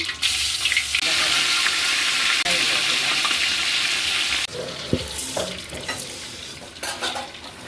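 Ginger and garlic paste sizzles in a pan while pulao is being cooked, a loud steady frying hiss with stirring scrapes and a few clinks of utensils throughout.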